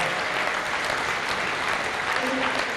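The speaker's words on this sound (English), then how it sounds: "So let's give him a round of applause." Steady audience applause fills a police award ceremony, a dense, even clapping from a crowd that holds at constant loudness throughout, with no talk over it.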